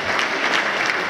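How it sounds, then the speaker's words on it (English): Audience applause at a concert, greeting a support artist: a steady, dense wash of clapping from a large crowd that holds at an even level. "please give him a round of applause"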